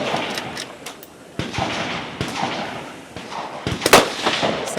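Rifle shots ring out during a timed stage of an elite men's regional shooting competition: several sharp cracks, some distant and one louder burst near the end, over a steady outdoor background.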